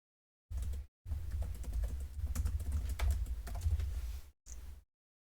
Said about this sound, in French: je suis en train de taper n'importe quoi.